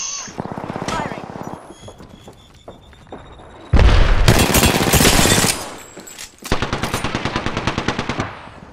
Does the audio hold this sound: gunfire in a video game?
yes